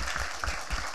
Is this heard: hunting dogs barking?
no